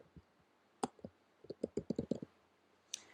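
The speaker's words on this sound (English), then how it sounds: "I'm going to take my mouse and I'm going to click on the outside of the circle or on the path of the circle" A computer mouse clicks at close range, one light tap and then a quick irregular burst of crisp clicks, quiet and with no voice.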